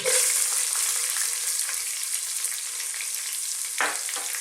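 Chopped onion, garlic and ginger frying with fresh curry leaves in a pan over medium-high heat, a loud bright continuous sizzle, close, with a couple of utensil scrapes near the end.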